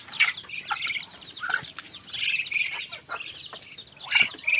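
Pet backyard chickens cluck and chirp in repeated bursts at close range, with brief pauses between calls and no talking.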